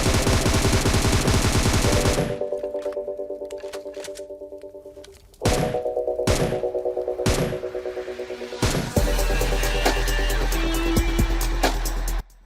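Rapid automatic M762 rifle fire in a video game, shots aimed at a vehicle, coming in loud close bursts with short pauses between them, the last long burst layered over a low rumble.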